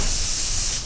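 A spray bottle misting water over hair during a fade haircut: one steady, loud hiss lasting the whole moment, fading slightly at the end.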